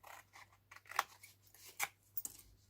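Scissors snipping card to cut wedges for a tealight box lid, a few quiet separate cuts at an irregular pace, close up and alone.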